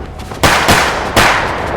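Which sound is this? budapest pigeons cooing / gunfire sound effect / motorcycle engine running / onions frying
gunfire sound effect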